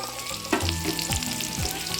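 Chillies and curry leaves frying in oil, a close crackling sizzle with bursts of spitting and a few scraping stirs, no voices.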